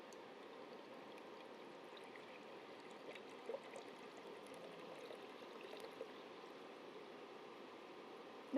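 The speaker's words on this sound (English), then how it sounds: "Now I am going to fill this tank by using this liquid." Liquid poured from a one-liter bottle into a tank, a steady soft trickling hiss that continues evenly throughout at low volume, with no talking.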